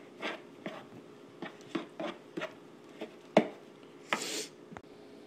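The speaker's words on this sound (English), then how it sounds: "I am going to go ahead and give this a mix so it's nice and combined" Coconut oil is stirred into a low-carb peanut butter flax meal bread batter in a bowl, a series of soft, irregular thick squishing and tapping strokes, close and quiet.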